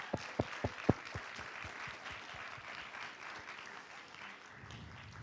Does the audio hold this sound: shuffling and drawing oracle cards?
no